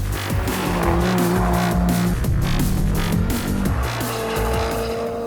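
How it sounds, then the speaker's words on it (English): Audi RS3 hot hatch engine roaring on a race track, loud and continuous with gear-change dips, tires squealing through corners as the car approaches and passes close. "Oh, look at the Audi's coming."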